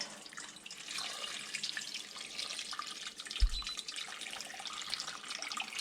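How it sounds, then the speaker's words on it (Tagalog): Water runs from a tap into a pot to soak pork belly for lechon kawali, a steady splashing pour with one dull knock partway through. "ibababad natin sa tubig"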